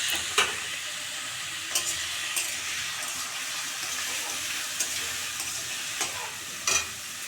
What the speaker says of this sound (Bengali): এখন এগুলো আমরা ভেজে নেব।